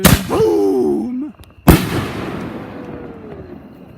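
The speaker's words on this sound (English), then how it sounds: "How do you rate the fireworks show of this year, people?" A fireworks show explosion, a loud close boom that cuts off a rising whistle or voice and then rumbles away into a long fading tail.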